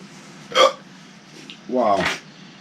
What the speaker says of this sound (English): these hiccups ain't helping my ribs at all.